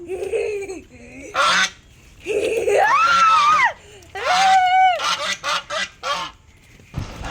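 Ducks being carried indoors in someone's arms give loud, close honks and squawks in repeated bursts, some long and strained, others short and clipped, with brief gaps between calls.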